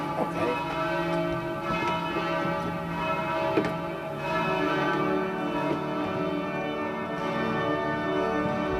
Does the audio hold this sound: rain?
no